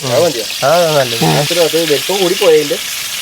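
Broast chicken frying in oil sizzles with a steady hiss, while a voice talks or hums over it the whole time.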